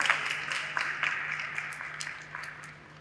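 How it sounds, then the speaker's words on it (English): An audience at an international physics and photonics conference applauds with dense, moderately distant clapping that holds steady, then slowly thins and softens toward the end. "Let's once again give her a warm welcome and a round of applause for"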